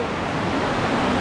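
Rushing water roars steadily at Kothapally Waterfalls in Andhra, a loud dense wash of noise with no breaks.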